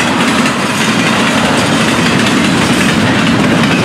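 A Florida East Coast freight train carrying piggyback trailers and double stacks passes close on a warm summer night, a loud continuous roar of wheels and rattling cars with clickety-clack throughout.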